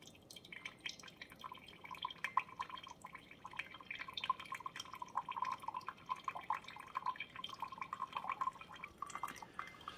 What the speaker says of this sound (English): it's a really nice steady stream of hot water coming out